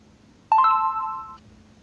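A short electronic chime from a phone notification, a quick cluster of bright tonal notes ringing out for under a second before fading, clear and alone over quiet background.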